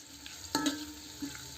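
Finely chopped onions, about 150 grams, frying in oil for a thin mutton curry, a low steady sizzle with one short stir or clatter in the middle and another faint one near the end.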